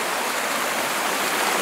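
A mountain stream along the Cascade Track in Nelson Lakes National Park rushes steadily, its running water making a loud, close, unbroken hiss with no voices.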